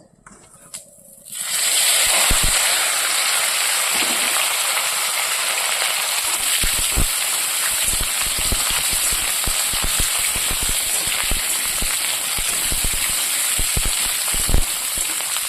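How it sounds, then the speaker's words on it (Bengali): Potato, cauliflower and radish frying in hot oil with bay leaf and cumin, a steady close sizzle that starts after a brief quiet moment and carries on with scattered crackles and pops. "এবার আমি এখানে সবজিগুলো ঢেলে দেব একটু ভালো করে"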